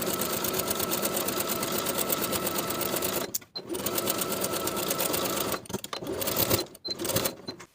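Domestic sewing machine stitching around the curved pocket of a pair of shorts, running in fast continuous bursts with a rapid needle rhythm, broken by short pauses and a few stop-start stutters near the end.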